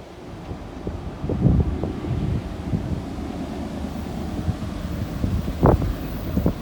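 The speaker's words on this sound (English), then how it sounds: "Very windy." Gusty wind roars and buffets the microphone, a steady low rumble swelling into louder bursts, with no voices.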